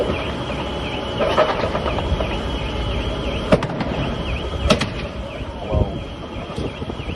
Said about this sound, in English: Banging, start exploding the fuel.